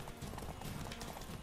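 Horse hooves clip-clop at a steady walking rhythm in the video game The Witcher 3: Wild Hunt, close, even and repeated, with faint game ambience underneath.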